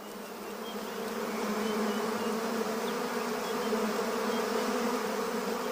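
A honeybee colony nesting in a hollow limb of a baobab tree hums with a dense, steady buzz, close and continuous throughout, with no voices.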